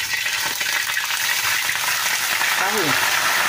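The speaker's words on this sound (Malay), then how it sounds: "Kita nak goreng" Tofu fries in hot oil in a pan, a loud steady sizzle that stays constant throughout, with a brief utensil scrape near the end.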